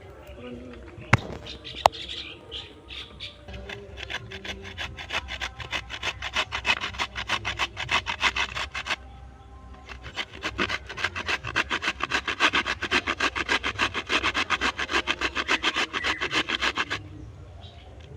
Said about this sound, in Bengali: দেখো কত সুন্দর কুড়িয়ে যাচ্ছে এরকমভাবে আমি সবগুলোকে কুড়িয়ে নেব